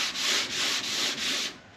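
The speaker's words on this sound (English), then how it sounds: "So I'm going to keep sanding" Hand sanding of a car door, the abrasive rubbed in four long, even back-and-forth strokes, close and loud, with no voices.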